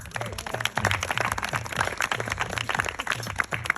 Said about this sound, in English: Give her applause for that.